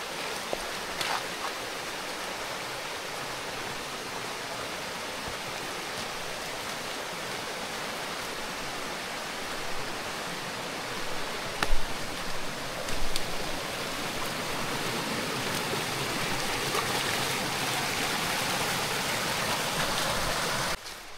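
Broad, steady rush of river water flowing at a jungle river crossing, loud and constant throughout with a few brief splashes near the middle.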